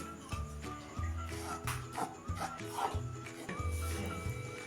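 Finger millet flour is dry-roasted in a pan, stirred with a scraping, rubbing rhythm of repeated strokes, close and fairly quiet, with no talk.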